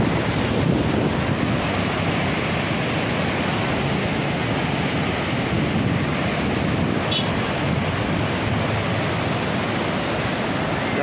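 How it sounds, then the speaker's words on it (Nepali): The Tinau river in flood at Butwal, Nepal, roars past as a dense, continuous rush of fast-moving water, loud and unbroken with no voices. "तिनाउ खोलाको यो बाढी"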